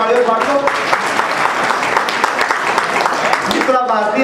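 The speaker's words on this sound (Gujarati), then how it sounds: "તાળીઓ પાડ્યો પાડો." Dense, steady applause from a seated audience at a community prize-distribution ceremony and social gathering in Visnagar, loud and continuous for a few seconds with voices mixed in.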